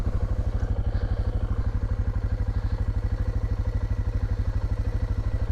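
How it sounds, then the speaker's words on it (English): A dirt bike engine throbs steadily in a rhythmic low pulse throughout, loud and continuous, with faint wind overhead and no one talking. "Somebody down there on a dirt bike."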